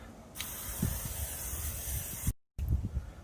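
Cooking spray hissing onto a hot cake pan at a camp kitchen: a close, steady hiss for about two seconds, a brief pause, then a second shorter burst.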